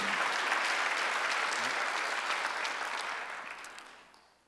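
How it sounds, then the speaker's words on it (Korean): A church congregation during a Sunday worship service claps in a steady, full burst of applause that tapers off over the last second. "박수 한번 주세요"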